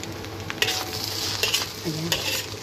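Homemade special fried rice stirred and fried in a pan, with a steady sizzle and scraping spatula strokes recurring through the clip, close and moderately loud, no talking.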